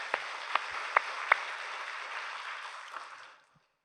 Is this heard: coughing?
no